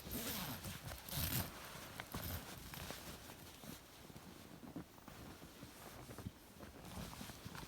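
A zipper on a homemade hot tent is drawn shut in a series of short scratchy pulls, close and fairly quiet, with rustling of fabric between the strokes.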